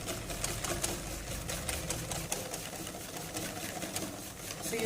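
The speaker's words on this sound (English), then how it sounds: "So you go ahead and whisk by hand until you can see the transitions happen." Dairy cream being whisked by hand in a bowl until foamy, a continuous fast scratchy swish with a rhythmic beat, moderately loud and close, with no talking.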